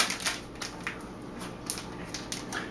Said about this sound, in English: we're going to rip these open like this